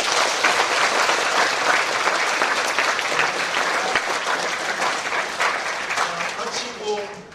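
Church congregation applauding in welcome during a Sunday service, a dense, steady wash of clapping from many hands filling the room throughout, tapering slightly at the end.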